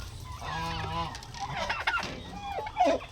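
Turkey hens let out of their breeder pen on a farm, giving short gobbling, honking calls close by, several overlapping over about three seconds.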